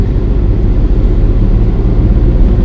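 An ex-German Embassy Isuzu with a 3.2 liter diesel engine drives along, giving a loud, steady low rumble that fills the whole stretch with no break and no talk.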